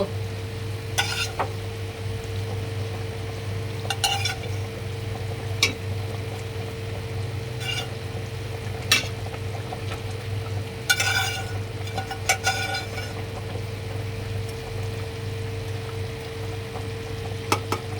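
Fish goes into a pot of boiling curry that also holds potato chops and piyaju for a fish bhuna, giving a steady low bubbling hum with scattered light clinks and scrapes of a spoon against the pot.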